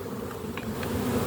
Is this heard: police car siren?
no